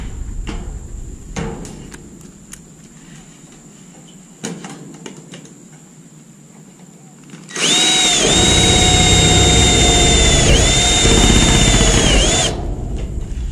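A power drill driving a screw during low-cost house construction, a few knocks and handling taps first, then a loud sustained whining motor burst of about five seconds that shifts pitch slightly as the screw bites.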